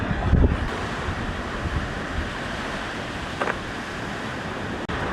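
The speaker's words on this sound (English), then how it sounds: "it's really windy" Strong wind on the La Gomera coast rushes steadily past the microphone as a loud, constant roar, with a couple of brief gust thumps near the start and no speech.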